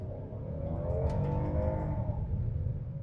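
A Hyundai Palisade Calligraphy in sport mode accelerates from 0 to 60, heard as a steady, low engine rumble that swells slightly and stays continuous throughout, with no talking.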